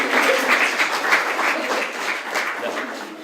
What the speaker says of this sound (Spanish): Pueden aplaudir a Bolinilla